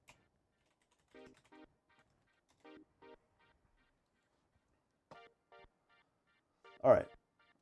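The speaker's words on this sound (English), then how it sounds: "Excuse me, I'm just typing." Sparse clusters of quiet computer keyboard taps separated by silence, then a short, louder burst of sound near the end.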